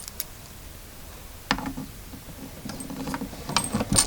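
Small metallic clicks and ratcheting ticks come from a terminal being screwed onto a borehole inspection camera, close and sparse at first, then quicker taps toward the end, with no talking.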